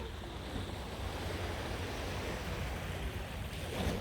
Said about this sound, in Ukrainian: Ось це наш пляж.